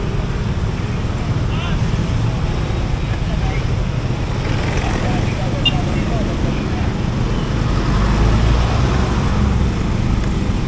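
Road traffic in the Philippines heard from a motorbike, a loud, constant roar of engines and wind rushing past with no clear breaks, close and unbroken.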